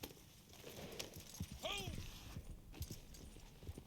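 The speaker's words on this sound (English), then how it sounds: "Get on the horse." Horse hooves clip-clopping in a video game, a fairly quiet run of regular hoofbeats over steady background game ambience, with a brief whinny-like tone partway through.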